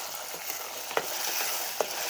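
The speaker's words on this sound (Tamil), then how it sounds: "தக்காளியே நல்லா வதக்கி விட்டுக்கும்" Tomatoes, onion and garlic sauté in a pan for a yam tamarind curry, giving a close, even sizzle broken by a couple of sharp spoon scrapes.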